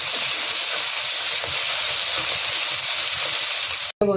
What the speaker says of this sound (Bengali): এরকম ফ্রাই করে নেবে